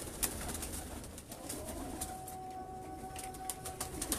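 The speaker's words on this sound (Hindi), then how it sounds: "ये बच्चों वाले कबूतर हैं" Breeder pigeons coo softly and repeatedly in a loft, with faint rustling and background noise.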